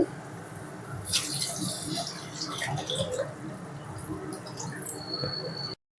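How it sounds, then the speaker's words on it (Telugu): Strained tamarind juice is poured into a hot pan for pepper rasam, giving a faint liquid splash and gurgle with small clinks, quiet and close, ending abruptly. "మనం వడకట్టుకున్న చింతపండు రసాన్ని వేసుకోవాలి"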